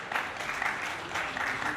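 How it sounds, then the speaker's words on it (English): An audience at an African One Health and biosecurity conference applauds a presenter with steady, moderately loud clapping that holds throughout with slight swells. "Can we please applaud him once again?"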